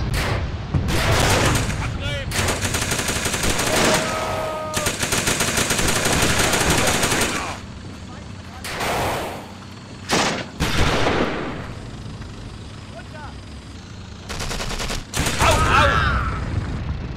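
Bursts of machine-gun fire, single gunshots and a rifle grenade blast sound in the Achtung Panzer video game, loud and repeated in clustered volleys with short pauses, while players talk over the action.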